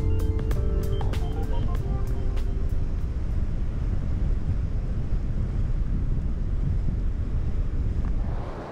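Strong wind buffets the microphone at a dark, windy seaside promenade in December, a constant loud rushing roar with surf-like wash beneath and a few faint metallic clinks at the start.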